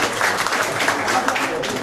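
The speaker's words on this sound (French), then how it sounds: "On applaudit très fort" Steady, dense clapping from a crowd at a Bible dedication ceremony, continuous throughout with no pauses, fairly loud and close.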